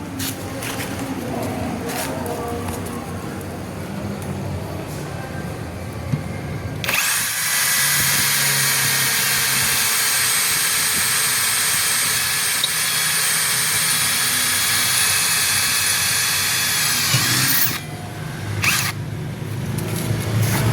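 A Dong Cheng electric drill with a sharpened bit bores through 8 mm steel. It runs as a loud, steady, high whine with grinding for about ten seconds, then stops. Quieter handling noise comes before and after the run.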